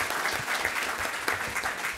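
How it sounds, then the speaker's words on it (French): An audience applauds at a French entrepreneurship talk after the speaker invites everyone to clap, a steady, dense wash of many hands clapping throughout, fairly close and with no voices over it. "Tout le monde l'applaudir."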